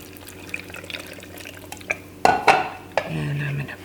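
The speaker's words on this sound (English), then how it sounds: "And just a little bit of water so the blender gets going." Kitchen clatter and small splashes, then water pours briefly into a blender with a few clinks and knocks around it.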